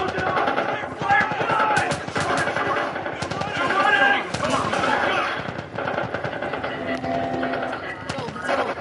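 Rapid automatic gunfire in The Last of Us Part 1 video game, dense bursts of shots layered over shouting voices and chaotic crowd noise, loud and close throughout.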